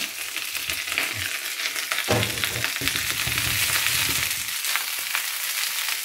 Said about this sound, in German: Da musst du jetzt ein bisschen braten lassen hier die Rosenkohl auch ein bisschen